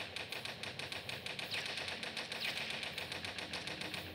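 Rapid, even automatic gunfire in the Toilet Monster hide-and-seek game, a steady rattling stream of shots at moderate level, with no one talking.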